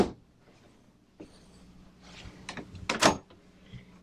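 Storage drawer below deck on a 2021 Tiara C49 yacht sliding and bumping shut, a few soft rubs and thuds ending in a sharper clack near the end, quiet and close in an otherwise still cabin.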